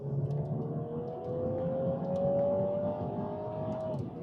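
A 2020 Mini John Cooper Works engine revs steadily, its pitch climbing slowly over a few seconds and holding loud and close, with faint higher whines above.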